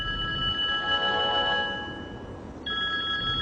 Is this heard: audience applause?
no